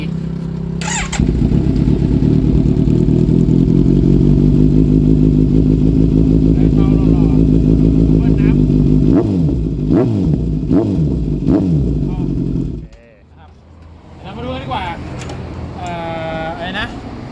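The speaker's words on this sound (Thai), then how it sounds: "เดี๋ยวเรามา ฟังเสียงท่อกันหน่อยครับ" A 2017 Kawasaki Z900 motorcycle with a can-shaped S4 exhaust muffler idles loud and close, then is blipped through several sharp revs before cutting out, with brief talk afterward.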